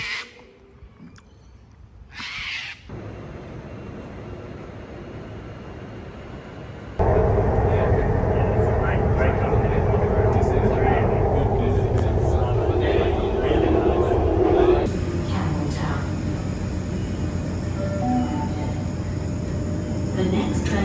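A metro train pulls into platform 22 of a Sydney station on the Sydenham line. A loud, steady rumble and rush fill the platform for several seconds, then ease to a lighter hum as the train settles.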